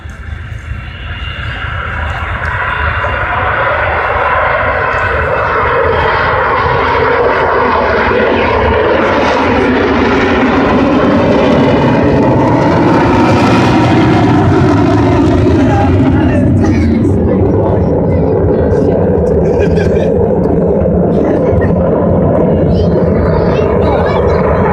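An Avro Vulcan jet bomber flies past with wheels down at a Weston-super-Mare air show. Its heavy, continuous roar quickly builds to a loud, sustained rumble, swells through the middle of the pass and stays powerful to the end.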